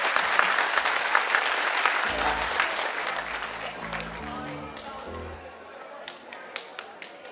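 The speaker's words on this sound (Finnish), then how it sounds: "taputtakaa nyt itsellenne hei. Vähän kovemmin" A concert audience at Jyrää 2016 in Heinola claps and cheers for itself, a dense crowd applause that swells, mixes with a voice over a low hum, then thins to scattered claps.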